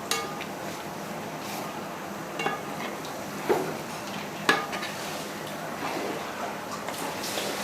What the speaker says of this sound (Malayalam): അമ്മ ഇത് ഒരുപാട് നേരം ഇങ്ങനെ ഇളക്കിക്കൊണ്ടിരിക്കണം.